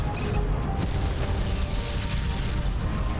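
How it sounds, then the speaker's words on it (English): A ship explodes in the space combat game Freespace: Silent Threat Reborn, a loud, dense rumbling roar that holds steady for a few seconds with no speech over it. "There goes the explosion,"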